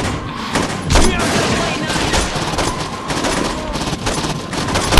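Dense gunfire and explosions from pistols and a rocket launcher fill a Saints Row 2 video game battle, loud rapid bursts and booms overlapping continuously with voices shouting beneath.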